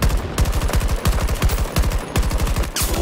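Rapid, loud turret machine gun fire in the Battlefield 2042 shooter, sustained bursts of closely spaced booming shots with brief pauses between volleys, close and dominant with no talking.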